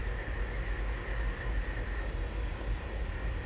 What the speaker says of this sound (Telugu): ఇది ఏదైతే డీరైల్మెంట్ అయింది కదా ఈ లోకోమోటివ్